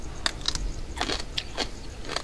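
Someone bites into and chews a crunchy cucamelon, a tiny watermelon-like fruit fresh from the garden, making several sharp, close crunches in an uneven rhythm against a quiet background.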